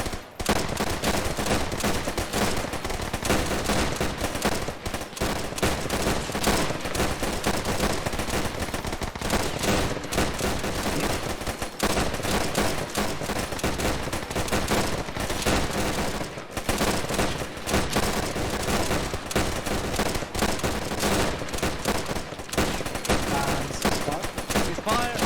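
Dense, continuous rifle and gunfire rattles in the video game Arma, with rapid overlapping shots from M1 Garand rifles and other weapons during a training exercise in Tunisia, loud and sustained throughout.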